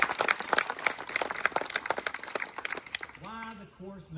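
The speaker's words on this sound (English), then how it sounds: "So please give them another round of applause." A crowd claps and cheers outdoors at the grand opening of a disc golf course, dense applause for about three seconds before it thins and a voice starts speaking.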